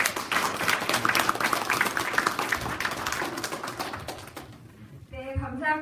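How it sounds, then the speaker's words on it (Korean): A crowd bursts into sustained clapping that fills most of the clip, then fades out; a few bird-like chirps are heard at the very end. "박수 한번 주십시오."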